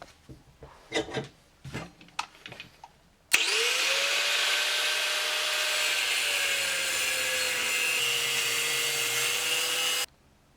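A power tool slash-cuts the end of a metal exhaust tube for a compound-turbo Mk1 Ford Fiesta, starting after a few light knocks and then grinding loud and steady for about seven seconds, its whine slowly dropping in pitch before stopping abruptly.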